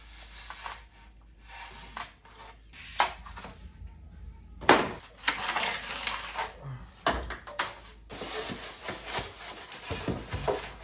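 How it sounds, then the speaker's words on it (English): A saw trims about half an inch off a wooden subfloor panel during an insulated subfloor installation over concrete, giving close, irregular bursts of rasping strokes separated by short pauses, with no talking. "So this piece is slightly too long. Just gonna trim about a ½ inch off."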